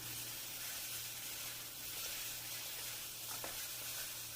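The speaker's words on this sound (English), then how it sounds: "And I kept stir-frying it for another 2 to 3 minutes." Steady sizzling and frying hiss of chicken stir-frying in a hot wok, continuous and fairly quiet, with a faint low hum underneath and no talking.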